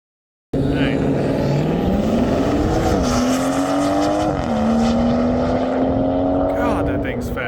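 A fast all-wheel-drive Jaguar accelerates hard, its engine note rising steadily through gear changes, loud and sustained from inside the car.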